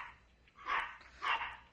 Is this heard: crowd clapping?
no